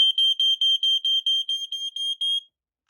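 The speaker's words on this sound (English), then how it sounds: "So, let's give this alarm a test." A 1996 FireX FXW-R smoke alarm under test gives a piercing, high electronic beep in rapid, steady pulses, loud and close, for about two and a half seconds before cutting off to silence.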